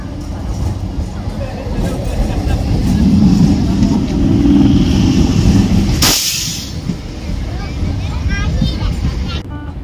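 A Namkhana local train rolls into a station, a loud rumble building through the middle before a sharp burst, with people talking nearby over the noise.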